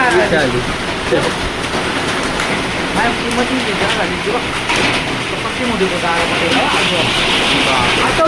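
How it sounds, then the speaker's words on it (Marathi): Hailstones pelt down in a dense, continuous patter, with voices talking over the steady clatter. "आता जास्त गारा पडणार"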